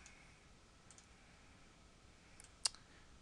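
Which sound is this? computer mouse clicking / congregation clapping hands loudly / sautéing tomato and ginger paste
computer mouse clicking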